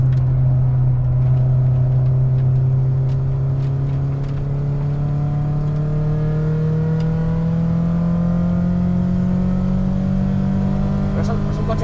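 Volkswagen Golf 2 GTI 16v, a 30-year-old hot hatch from the 1980s, pulling hard through the gears with a steady rising engine drone that climbs in pitch while overtaking on a track, continuous and close, with voices talking over it.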